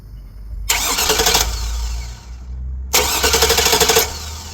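A 2003 GMC Sierra pickup with a no-start condition cranks on its starter in two separate bursts of close, loud, rhythmic churning, with a short quiet gap between them and no catch or run-up of the engine.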